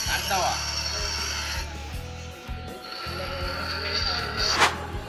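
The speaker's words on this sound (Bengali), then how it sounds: "অবশেষে আমাদের লেদ মেশিন চালু হয়েছে" A lathe runs in a polytechnic institute workshop, a steady mechanical hum and rattle with rhythmic low clanks and whirring, close and fairly loud, while people talk over it.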